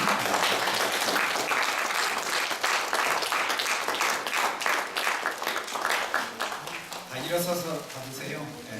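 Applause from a church congregation during an ordination ceremony, steady dense clapping for several seconds that softens near the end as a voice begins talking over it.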